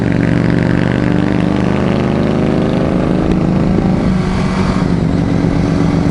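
A small learner Harley-Davidson motorcycle rides past close by, its engine note loud and steady, then rising and shifting in pitch as it goes by.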